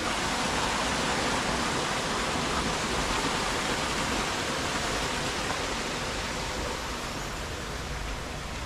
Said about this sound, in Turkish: O şelaleden gelen su.